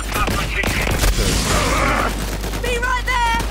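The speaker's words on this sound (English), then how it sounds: "Turret." Turret gunfire in the Borderlands 3 video game, dense rapid bursts and booms over constant game noise, loud and continuous, with electronic effects toward the end.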